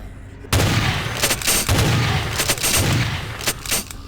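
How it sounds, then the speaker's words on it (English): A shotgun fires in Vampire: The Masquerade Bloodlines, played with the Final Nights mod. A sudden loud blast opens, followed by several more close, sharp shots and impacts in quick succession, with a brief voice heard amid the firing. "I do need my trusty shotgun."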